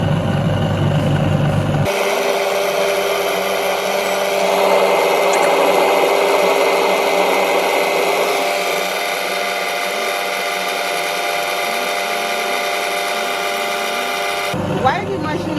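An electric yam pounding machine processes yam and potatoes, a steady motor whine with a constant hum and faint churning, starting abruptly and cutting off near the end, fairly loud and close.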